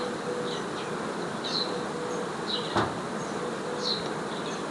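Honeybees hum steadily at an apiary, a continuous mid-level buzz with occasional louder passes as individual bees fly close by, outdoors with no voices.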